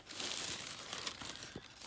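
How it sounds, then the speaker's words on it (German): A plastic shopping bag crinkles and rustles steadily while being handled, with scattered crisp crackles and small crunches, fairly close and moderately quiet, with no voices. "Ich habe hier sogar eigentlich auch noch eine coole Tüte bekommen von Talia"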